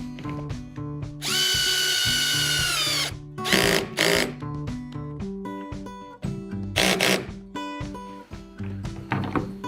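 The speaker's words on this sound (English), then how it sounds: "about 25 turns until the well nut expands fully and secures the hardware into the hole" A power drill driving a screw into a well nut on a Hobie Mirage Passport 12.0 kayak hull, with a long steady whir and several short bursts, interspersed with close clicks and hollow thunks of plastic handling.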